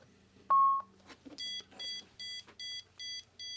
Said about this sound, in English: It beeps until you find your prescription bottle.